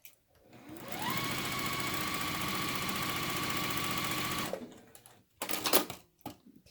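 A sewing machine stitches a quarter-inch seam on a partial seam log cabin quilt block, a steady close mechanical whir running for several seconds before stopping, followed by brief handling clatter.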